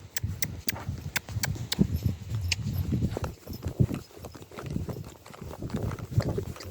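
A horse trots out on a ride, its hooves clip-clopping in a steady rhythm throughout, close by and fairly loud with outdoor background noise.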